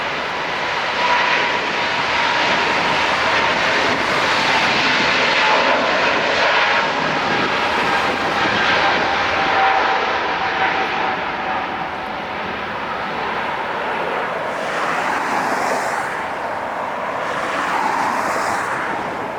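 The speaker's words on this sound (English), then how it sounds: "All Nippon Airways, going to Tokyo, 787-9 Dreamliner." An All Nippon Airways Boeing 787-9 Dreamliner jet bound for Tokyo roars at LAX, a loud, continuous engine rumble and whine that holds steady for about twenty seconds with no talk over it.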